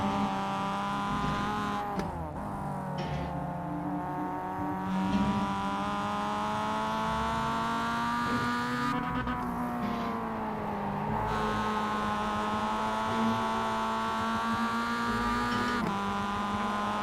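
A racing video game car engine drones loudly and continuously, with brief dips as gears change before the pitch climbs again under throttle into third gear.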